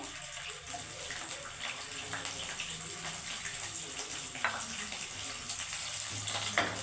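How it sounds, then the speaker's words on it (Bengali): Tomatoes lightly frying in a pan give a soft, continuous sizzle with a watery hiss and faint stirring, fairly quiet and steady throughout. "এবার টমাটমগুলো হালকা ভেজে দেবো"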